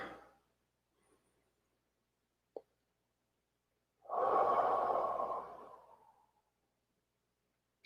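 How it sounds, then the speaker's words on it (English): Slow, deep cleansing breaths during a quiet meditation: a soft breath at the start, a brief click, then one long, full exhale close to the listener, fading into near silence. "Take a couple of nice deep cleansing breaths."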